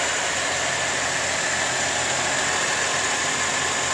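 A 2012 Chevrolet Malibu LTZ's 3.6-litre V6 engine idles steadily, a continuous even rumble and hum with no change in speed.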